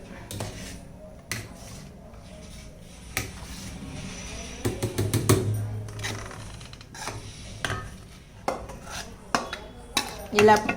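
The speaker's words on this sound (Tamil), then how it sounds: "கொஞ்சம் கொஞ்சமாக போட்டு கலக்குங்க" Payasam mixture with milk being stirred in a pot, with intermittent metal scraping and clinking of a spoon against the pan, irregular strokes close by and a louder cluster of scrapes midway.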